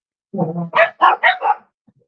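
A dog gives a quick run of about four or five loud, close barks with a whimpering onset, then goes quiet, with no talk over it.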